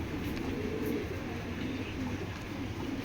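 Red checker racing pigeons coo softly in a low, continuous murmur at a loft, the calls blending with a steady background hum throughout, with no talking.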